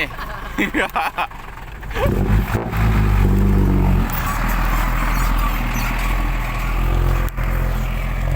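A powerful car revs up and pulls away. Its deep engine roar builds and holds steady after some brief scuffling and voices at the start.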